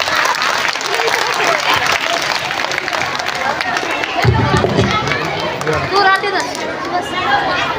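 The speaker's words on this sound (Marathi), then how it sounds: "एकदा होऊन जाऊ द्या टाळ्या या तमाम उपस्थित पालकांसाठी." Parents at a school annual gathering clap continuously in a dense, sustained round of applause, with crowd chatter and movement mixed in throughout.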